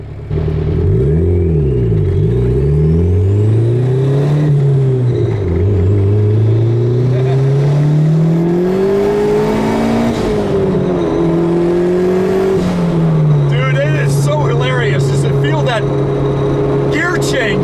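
A 1995 Honda Civic coupe with a turbocharged B20B engine swap accelerates hard, its engine note climbing and dropping as it shifts through gears, loud and continuous, with faint sounds near the end.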